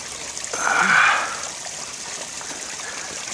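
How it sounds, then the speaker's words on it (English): Water from a backyard waterfall flows into a pond with a soft continuous trickle and splash, moderately near, swelling briefly before settling into a steady gentle rush. "And then you can see the waterfall."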